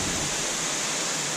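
A waterfall heard as a dense, continuous roar of falling water, steady and broadband across the whole short stretch.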